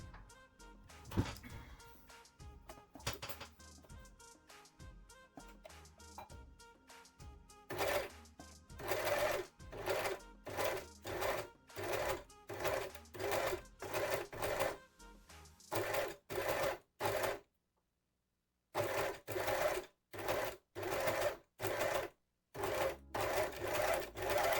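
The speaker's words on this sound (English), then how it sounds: "And let's carefully overlock this edge." Overlocker stitching along the edge of pleated fabric, running in rapid bursts of mechanical chatter separated by short pauses, close and fairly quiet.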